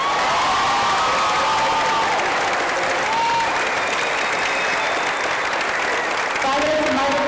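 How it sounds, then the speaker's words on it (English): A graduation audience at the BOYCP Class of 2022 ceremony claps for parents, producing loud, continuous crowd applause with scattered cheers and whoops filling the whole stretch. "So please clap your hands one more time for your parents."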